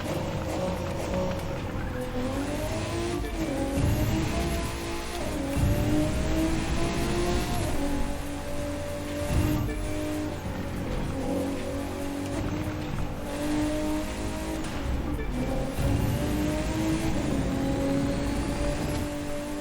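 Car engine in The Crew 2 racing game, a steady droning roar with rising and falling pitch as the car cruises and shifts, plus occasional tire squeal, continuous and loud throughout with no talk.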